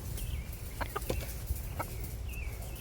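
Chickens clucking in a backyard flock being moved into a crate, several soft, brief calls scattered over a steady low background hum, fairly quiet and not close.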